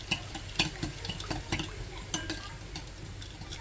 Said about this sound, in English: Give it a good old stir in.